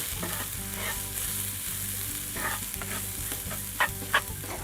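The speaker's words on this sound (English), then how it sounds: "I'm going to stir this up just to get it coated a little bit with the vegetables and the oil." White quinoa stirred with vegetables and oil in a hot pan, a steady sizzle with rhythmic scraping strokes and two sharper knocks near the end.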